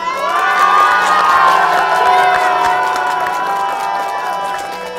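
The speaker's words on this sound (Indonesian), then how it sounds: "Boleh tepuk tangan dulu?" A crowd of onlookers, including children, cheers and shouts loudly and continuously, with scattered applause mixed in and voices blending into a dense, sustained roar up close.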